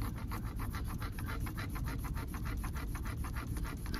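A K-blade beauty shear is sharpened on a 5000 grit stone, giving fast, rhythmic back-and-forth scraping strokes, close and steady, about four or five per second with no talk.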